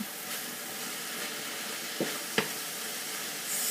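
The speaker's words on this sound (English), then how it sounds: "Anyway, keep stirring." Kale cooks over medium heat in a pan with a steady hiss and sizzle, and two brief scraping knocks come from stirring. No one speaks.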